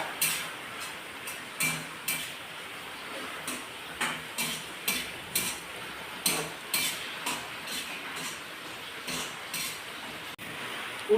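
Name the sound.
stirring tomato, ginger, garlic, chilli for prawn biryani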